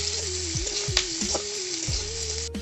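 Onion frying in mustard oil in a kadhai gives a steady close hiss, with a few soft clunks and knocks as it is stirred, and a low hum running underneath.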